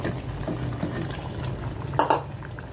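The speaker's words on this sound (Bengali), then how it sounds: "এখন আমি মাছগুলো দিয়ে দিচ্ছি।" Fish pieces go into a pan of fried potatoes, a short stretch of low sizzling with light clinks and a brief sharp clatter near the end, close and quiet.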